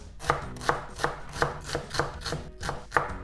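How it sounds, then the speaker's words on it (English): A knife dices food into small cubes on a cutting board, eight crisp, evenly spaced chops in a steady rhythm, close and clear with nothing else heard. "I'm gonna cut into like this so that I have small dices"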